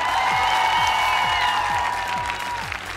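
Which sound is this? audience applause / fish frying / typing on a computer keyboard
audience applause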